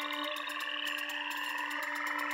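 Frogs croaking in a steady, rapid pulsing chorus, fairly quiet and continuous with no voices.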